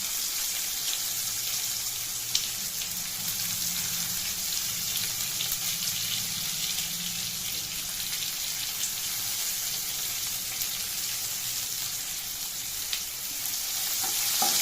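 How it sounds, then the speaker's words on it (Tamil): Onions sautéing in a pan with green chilli for a Tamil pakoda kuzhambu gravy: a steady close sizzle and crackle of frying that runs unbroken for about fifteen seconds, with light stirring scrapes and no talking. "வெங்காயத்தை போட்டு நல்லா கைவிடாமல் வதக்கி விடணும்."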